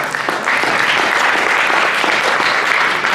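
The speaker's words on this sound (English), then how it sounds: "let's give a round of applause for these people" Audience at a school jazz band concert in Paynesville applauding, a loud, dense wash of clapping that holds steady for several seconds.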